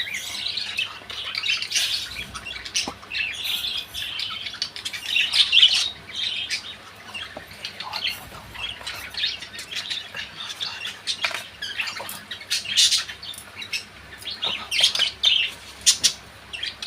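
Small birds chirp and squawk in quick, overlapping bursts while feeding on thankuni (pennywort) leaves one morning, the calls close and lively throughout with no talking.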